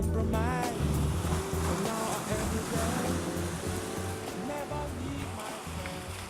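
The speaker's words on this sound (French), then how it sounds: "Quand on s'élance dans la mer et rame vers le large, passant sous les premières vagues" Ocean waves break and wash continuously at a surf spot, a steady roaring surf close by with a layer of wind, heard on its own without talk.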